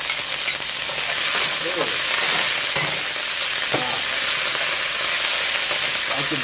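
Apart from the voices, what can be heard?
garlic and chili pepper frying in a pan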